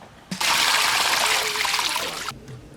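Water gushes and splashes steadily while a whole lamb is washed outdoors, loud and close for about two seconds before cutting off abruptly, with no talk.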